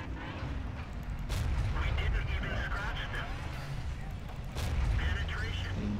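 Tank cannon fire in World of Tanks, with a KV-2 in play: two sharp broadband blasts, one early and one near the end, over a dense, steady rumble of engines and battle noise.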